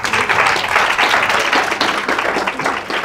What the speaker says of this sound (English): Are y'all fake clapping these real claps?